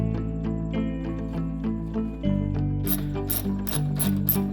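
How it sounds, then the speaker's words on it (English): A ratchet clicks in quick bursts while tightening the headlight bolts on a 2005–2010 Chevy Cobalt. The close mechanical clicking plays over the low rumble of a running engine. "tighten up the bolts again."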